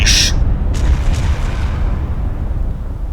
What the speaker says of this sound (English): I mean, these huge explosions, huh?